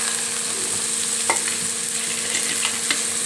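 Okra goes into hot oil with cumin, asafoetida and turmeric, giving a steady, dense sizzle. A few soft clicks of stirring break through the frying noise, with no voices.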